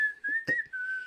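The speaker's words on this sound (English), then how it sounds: "Whistle solo." A dead fish whistles a tune in a film scene, one clear sustained whistle line lasting about a second with a brief thump in the middle.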